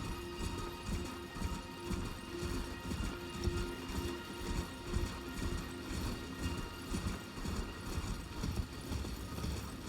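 A horse gallops steadily in the Elden Ring video game, its rhythmic hoofbeats repeating evenly under a constant bed of game music and ambience, fairly faint overall.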